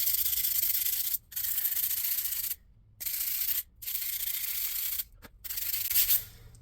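Dented steel trim from a 1953 Chevy truck is hand-sanded in close, rasping strokes that run in long bursts separated by short pauses, with no talking.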